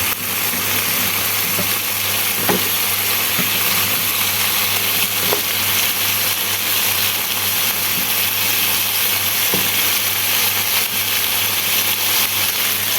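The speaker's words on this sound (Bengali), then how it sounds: "এরপরে আলুগুলোকে আমি মশলার সাথে ভালো করে নেড়ে চেড়ে মিশিয়ে দিব" Cut potatoes fry with spice masala while they are stirred for a koi fish dish. A steady, loud sizzle carries throughout, with occasional sharp clicks of the spoon against the pan.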